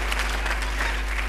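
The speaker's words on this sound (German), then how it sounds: "So, jetzt können wir klatschen, das war's dann." Audience applause, a steady dense clapping from a crowd filling the whole short stretch, fairly close and unbroken.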